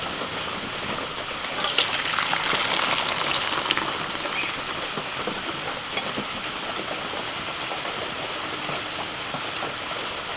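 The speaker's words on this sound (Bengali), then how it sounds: "সেই তেঁতুলের জলটা দিয়ে দিচ্ছি" Tamarind water poured into boiling pappu dal in a pot, giving a steady, continuous splashing gush that holds at an even level for about ten seconds, with no talking.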